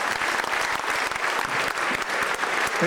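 A convention audience at a German horror fan event applauds Tom Savini, a dense, continuous wash of many hands clapping at an even, fairly close level throughout.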